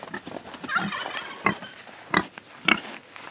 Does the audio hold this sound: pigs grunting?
yes